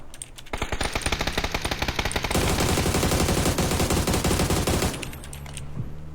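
Sustained automatic gunfire in PUBG, a steady rapid stream of loud close shots that speeds into a dense continuous burst before cutting off near the end.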